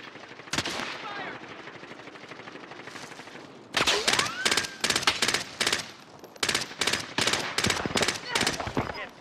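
Bursts of automatic gunfire in Call of Duty: Modern Warfare, a steady rattling volley after a brief opening shot, followed by rapid repeated cracks of close, loud shooting with game voices in between.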